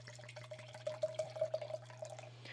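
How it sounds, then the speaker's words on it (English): French Merlot from Pays d'Oc poured into a glass: a steady liquid trickle with bubbling, gurgling accents, close and fairly quiet, alone without talk. "So let's pour this in our glass."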